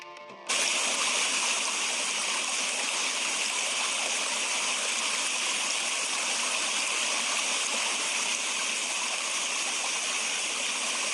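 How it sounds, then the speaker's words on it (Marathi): A large waterfall pours behind ancient rock-cut monolithic temples, a loud, dense, unbroken roar that starts abruptly and holds steady throughout, with no voices. "मोठा धबधबा वाहतया की मंदिराच्या मागच्या बाजूनं वाहत"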